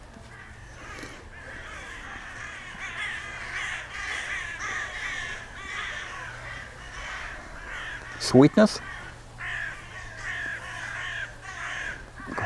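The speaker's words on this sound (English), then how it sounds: "the birds here just above me, they are crazy" Crows cawing overhead outdoors, a couple of loud harsh caws breaking through mid-way over a steady background of calls, while someone speaks briefly nearby.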